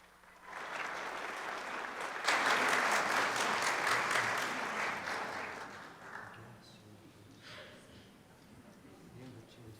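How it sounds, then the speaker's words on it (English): An audience breaks into warm applause as a choir is welcomed onto the stage, clapping swelling quickly, holding steady for several seconds, then thinning out and fading. "please help me welcome them to the stage with a round of applause"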